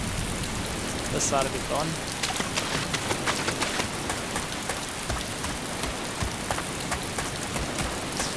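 Steady rain pattering and hissing in the video game ArmA II DayZ, constant and close throughout, with someone briefly speaking over it.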